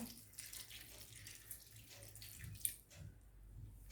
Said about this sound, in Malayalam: ഇനി നമുക്ക് മുരിങ്ങക്കായ വേവാൻ ആവശ്യമായ വെള്ളം ഒഴിച്ച് കൊടുക്കാം.